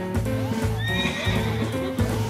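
A horse whinnies in the racing game Forza Horizon 5, a loud, wavering neigh in the middle of the clip over a steady engine-like rumble and soft thudding hoofbeats.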